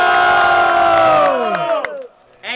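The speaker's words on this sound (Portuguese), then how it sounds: "Barulhos, barulhos pra quem gostou das rimas da Catu." Loud crowd cheering and shouting at a rap battle final, a dense roar of voices that fades out toward the end before a fresh burst of shouting.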